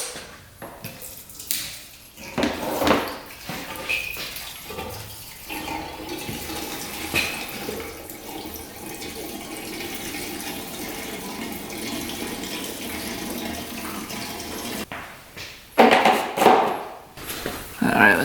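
Two-stroke premix fuel at 40 to 1 is poured into a dirt bike gas tank, a close, gurgling liquid pour that runs steadily for several seconds, with sloshing and handling noises at the end.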